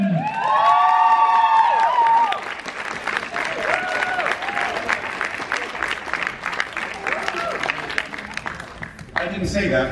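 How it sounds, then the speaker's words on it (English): An audience at a London comic convention panel bursts into loud applause and cheering, with whoops and shouts at first, then the clapping settles into a steady mass before fading near the end. "give me a massive round of applause to the brilliant Tom Mison!"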